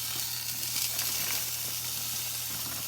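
Carrots, cabbage and broccoli sizzle in a pan with a steady, close frying hiss over a low constant hum, unbroken throughout.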